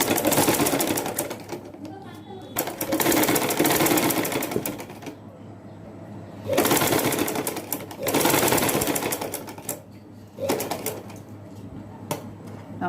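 A sewing machine stitches piping fabric onto a baby frock sewn from half a yard of cloth, running in several loud bursts of rapid mechanical whirring separated by brief pauses.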